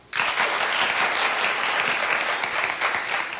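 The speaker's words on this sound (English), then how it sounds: "clap if you Spotify" A studio talk-show audience breaks into sudden applause, dense clapping from many hands starting abruptly and holding steady to the end.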